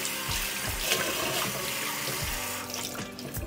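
Water runs from a tap into a sink with splashing as hands scoop water to wash a face, a steady close gush that thins toward the end.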